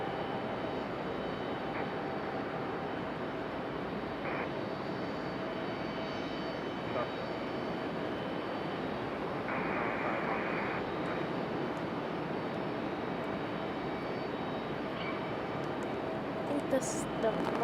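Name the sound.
Boeing 777 jet moving slowly at Raleigh-Durham airport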